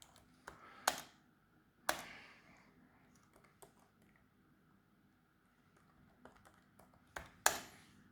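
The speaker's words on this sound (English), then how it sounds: "Okay, mistyping the password." Sparse keystrokes on a computer keyboard as a password is typed: a handful of sharp, close clicks and taps spread unevenly over a quiet room, with pauses between bursts.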